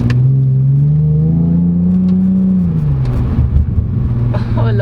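A 2015 Hyundai Genesis Coupe with a 3.8L V6 rumbles in a deep, steady exhaust burble that rises slightly, then drops and turns rougher, loud and heard from inside the car.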